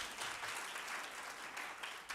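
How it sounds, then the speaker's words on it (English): An audience at a private-sector workplace dialogue event claps louder on request: a dense, sustained patter of many hands, even and moderately distant, with no talking over it. "I need a louder hand clap than that"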